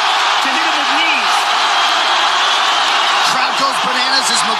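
Arena crowd roaring and cheering at a UFC title fight between McGregor and Khabib, a steady loud wash of voices throughout with a commentator talking over it.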